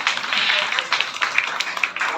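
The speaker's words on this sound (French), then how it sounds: "Vous pouvez applaudir James qui a gagné." An audience applauds James, the winner, with a dense, steady patter of many hands clapping at moderate volume for about two seconds, with a few sharper individual claps standing out.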